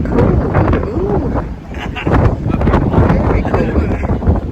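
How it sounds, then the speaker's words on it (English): Strong wind buffeting the microphone high on Sugar Loaf Mountain in Brazil, a continuous loud rumbling roar with gusts surging and easing, while people talk throughout. "It's very windy up here and cold."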